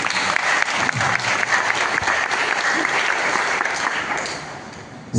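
Sustained, loud audience applause fills a charismatic family festival gathering at St. Thomas Forane Church in Mattom, steady dense clapping with no pause, swelling briefly again at the very end.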